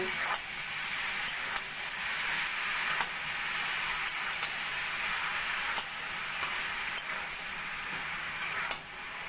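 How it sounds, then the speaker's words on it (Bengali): Boiled banana flower is stirred into a tomato spice masala in a pan, giving a steady steamy sizzle and hiss with faint periodic spoon taps against the pan. "মোচা মোচা ভালো করে মশলার সঙ্গে মিশিয়ে নেব"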